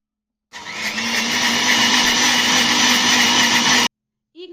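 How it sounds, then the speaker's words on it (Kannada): Mixer grinder blending cardamom with milk into a smooth paste, a loud steady high-pitched whirring motor running for about three seconds before cutting off abruptly, with no talking. "ಮಿಕ್ಸಿಗೆ ಹಾಕಿ ಇದನ್ನು ನೈಸಾಗಿ ರುಬ್ಕೊಂಡು ಒಂದು ಪಾತ್ರೆಗೆ ಹಾಕ್ಕೊಳ್ತಾ ಇದ್ದೀನಿ"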